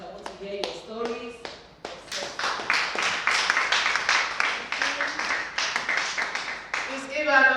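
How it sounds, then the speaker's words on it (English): An audience claps for several seconds, a dense run of close hand claps swelling and tapering, with voices speaking over the applause at the start and end. "Please give her another round of applause."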